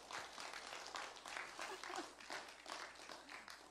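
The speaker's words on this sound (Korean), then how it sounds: "여기 저 박수 치는 것 보니까요" Audience applause fills a marriage restoration seminar, a dense continuous patter of many hands clapping at moderate distance, steady throughout with a faint murmur of voices mixed in.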